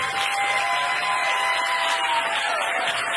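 Audience at a live comedy talk show giving a round of applause for the guests, a dense, even burst of clapping from a crowd filling the room for a few seconds.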